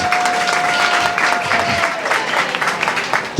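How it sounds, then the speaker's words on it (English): Audience applause at a bike story night in a brewery, a loud, dense burst of many hands clapping with some crowd noise, continuing steadily to the end. "let's give another round of applause for the storyteller so far"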